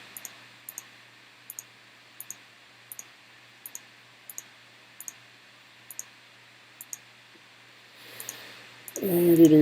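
Regular mouse clicks from someone selecting around a hand in Photoshop, sounding as sharp double clicks roughly every 0.7 seconds, close and clear over a quiet hum, before a louder rustling burst at the end.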